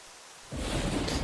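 Thunder rumbling during a lightning storm in the Minecraft video game, starting quiet and then suddenly swelling into a loud, sustained crackling roar with a rain-like hiss that continues to the end.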